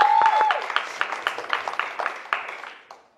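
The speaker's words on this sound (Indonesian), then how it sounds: "tepuk tangan dulu buat THST" A live audience at a comedy roast applauds a comedian with a dense round of clapping that starts loud and close and then slowly thins out and fades.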